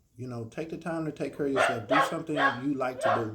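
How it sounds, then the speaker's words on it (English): A puppy barks repeatedly in quick yapping bursts close by, mixed in with a person talking over it. "That's my dog's barking in the background"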